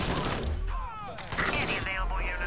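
Gunfire in the video game Mafia 3, a dense rattle of shots under a loud continuous wash of game sound and chatter, with voices talking over it.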